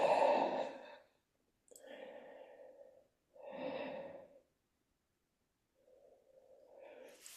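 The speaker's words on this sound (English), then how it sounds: "Taking a few deep breaths." Slow, deep breaths taken during a relaxation exercise with hands cupped over the eyes, several long inhales and exhales close by with quiet pauses between them and no talking.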